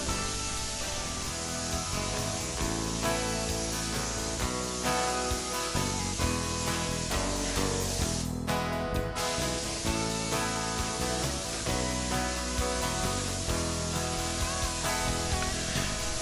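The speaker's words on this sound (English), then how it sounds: "Now I'm just going to finish up by spraying all the center panels and the bottom rail" A spray gun laying a wet coat of stain onto oak cabinet center panels and rails gives a continuous airy hiss throughout, with one brief pause in the middle, steady and close with no talk.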